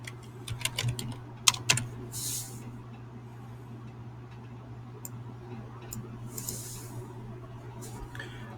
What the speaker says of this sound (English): So you create a text box and you type in the words.